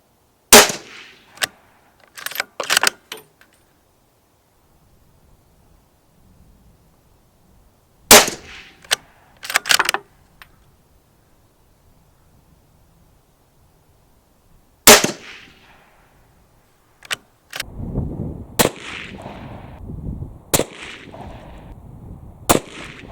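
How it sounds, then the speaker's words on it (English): Bolt action of a Benelli Lupo .308 rifle with a 20-inch barrel being worked by hand, producing sharp metallic clacks and clicks in small clusters, separated by quiet gaps, close and crisp. "I flick it open and operate it with my hand in sort of less demanding scenarios"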